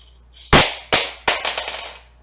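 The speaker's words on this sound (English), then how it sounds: "we're going to continue to rotate through all the chambers several times to be sure" Pietta single action revolver being cycled through its chambers: three sharp metallic clacks followed by a quicker series of lighter clicks fading out, close and alone.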